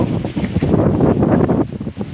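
Strong wind roars and buffets the microphone in loud, continuous gusts, with no voices.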